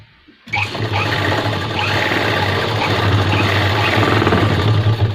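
A sewing machine stitches a wallet pocket onto a pair of pants, starting abruptly after a brief quiet moment and then running loud and steady with a constant motor hum and fast needle rattle.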